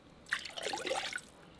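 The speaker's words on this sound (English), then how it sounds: "get just some regular water and to put it into this pot" Plain tap water splashes into a cooking pot, a bright trickling pour that starts abruptly, swells and then fades out over about a second, close by with no voices.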